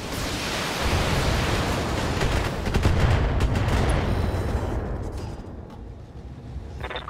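Heavy mech weapons firing in the BattleTech video game, a dense roaring barrage of blasts and rumbling impacts that swells and then tapers off, with a few sharper cracks near the end.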